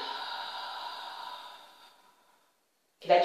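A forceful exhalation during hypopressive abdominal exercise, a steady breathy rush of air that fades out over about two seconds, followed by silence and then a brief sharp sound at the end.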